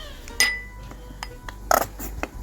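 Metal clanks and clinks come from a sauce pot of barbecue sauce being shaken in a kitchen, several sharp knocks at irregular intervals, close and moderately loud with no talk.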